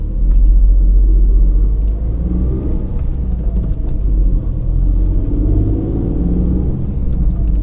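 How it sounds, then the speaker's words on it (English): A Tata Tiago with a 1.2-litre engine accelerates while running on CNG, giving a steady low engine drone and rumble heard from inside the car, rising slightly in pitch. "now talking about CNG, let me just stop the car again and try accelerating again"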